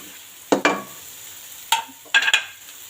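Six peeled boiled eggs drop into a frying masala curry for egg and potato curry, giving a few close, sharp clunks and stirring knocks over a faint sizzle.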